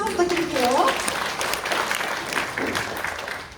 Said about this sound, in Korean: 우리 읽어주신 분에게 박수 한번 부탁드릴게요